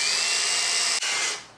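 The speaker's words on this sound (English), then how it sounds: "because the documentation says to drill through them" A power drill with a quarter-inch bit bores steadily through old rivets on the steel sickle bar of a Ventrac boom mower, a loud continuous whine with one brief dip before it winds down.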